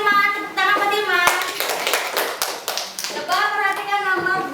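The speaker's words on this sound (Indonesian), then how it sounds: "Tepuk tangan buat Irman" Classroom students give a short round of clapping for a classmate, a ragged burst of hand claps between stretches of voices from the room.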